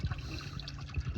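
Water trickling and splashing as a garden koi pond is topped up, a steady continuous liquid rush with low burbling, close by.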